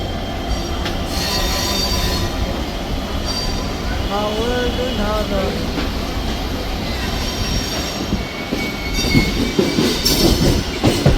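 A local train hauled by a WDG4 diesel locomotive accelerates, rumbling steadily with loud wheel squeal and metallic screeching over the tracks, the noise building toward the end.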